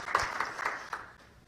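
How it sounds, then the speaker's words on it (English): A lecture audience claps to welcome the speaker, a short, thin burst of applause with a few distinct claps that fades out within a couple of seconds. "I'll just ask you to give some applause to welcome out Dr. Heiser."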